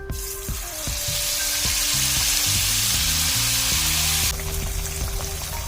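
A continuous loud sizzle of chilli paste of shallots, garlic and dried chillies sauteing in hot oil in a pot, with a run of plinking musical notes playing over it.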